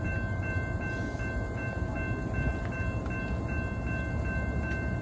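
A Norfolk Southern freight train rolls past, led by a Lehigh Valley heritage locomotive with a BNSF unit trailing, giving a steady loud rumble of wheels and cars with rhythmic clicks over the rails.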